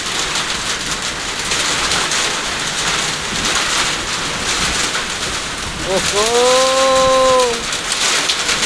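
Heavy rain lashes down with gusting wind in Kailali, a dense, loud, steady roar. A brief voice exclaims partway through, and a rising tonal sound passes near the end.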